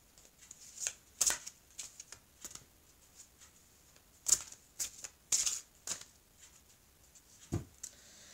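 Tarot cards being shuffled and handled close up, a series of quick papery riffles and flicks with a few sharper snaps spread across several seconds, no talk over them.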